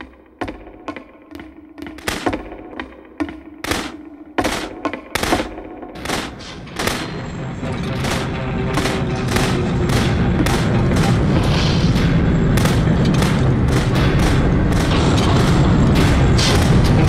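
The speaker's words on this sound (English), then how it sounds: "Remember, you can click to fire the gun." Gunshots in The Beginner's Guide start as separate sharp cracks at irregular intervals, then give way to a dense, continuous barrage that grows louder and fuller to the end.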